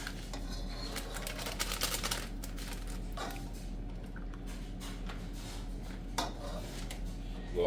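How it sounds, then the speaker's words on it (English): A spoon stirs coconut milk powder into curry goat in a pot, giving irregular scraping clinks and taps against the pot over a steady low background hum. "Give it a nice little stir. Mix it in nice and proper."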